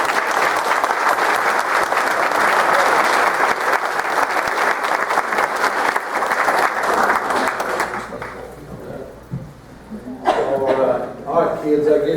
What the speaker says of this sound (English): please give these kids a round of applause.